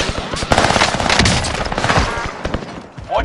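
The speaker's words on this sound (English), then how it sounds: "Receiving hostile fire." Loud, dense automatic gunfire from a Warzone Resurgence match rattles almost nonstop, with overlapping bursts and rapid shots filling the mix.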